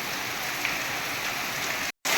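Steady, dense downpour of heavy rain over village farm fields, hissing continuously, loud and close, with a brief dropout near the end.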